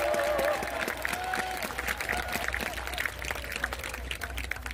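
Crowd applause and cheering at an outdoor political rally in Yeouido, Seoul, a dense steady wash of clapping with scattered shouts and distant voices over a low rumble of the gathering.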